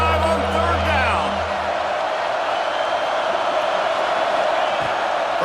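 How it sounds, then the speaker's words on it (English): Ohio State Buckeyes fans roar in a packed football stadium, a dense crowd noise with whoops that stays loud throughout as an announcer's voice carries over the cheering. "The Buckeye crowd alive on 3rd down."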